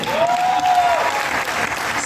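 Sustained applause from a crowd at a film trailer launch event, loud and continuous for about two seconds, with a brief tonal whistle rising over it early on.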